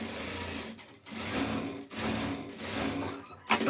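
A sewing machine topstitching a double-folded trouser hem runs in steady close whirring bursts, pausing briefly twice before starting up again, with a quick click at the end.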